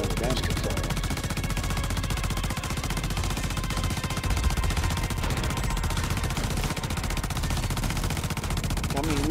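A chain gun in Crackdown 3 fires continuously, a loud steady rapid rattle of shots sustained without a break from start to finish.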